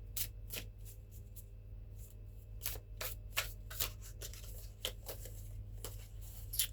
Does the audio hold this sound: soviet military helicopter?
no